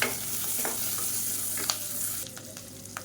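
Onion and crushed green chili sautéing in a pan, a steady sizzle broken by a few scraping stirs of the spoon, close and clear with no talking.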